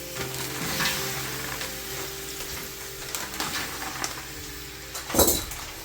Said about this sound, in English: we're going to put some okra in there.